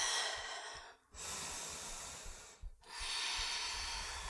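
Two long, close breaths pushed out through the nose during a vinyasa yoga flow, each a steady airy rush broken by a short pause, with no speech over them.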